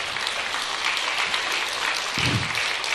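Audience clapping at a university lecture, a steady broad wash of applause filling the whole stretch at moderate loudness.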